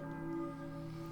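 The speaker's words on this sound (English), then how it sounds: "I hear a church bell, maybe? Who is ringing the bell?" In the Silent Hill video game, a church bell tolls faintly, with one sustained ringing strike and long humming overtones, quiet and distant.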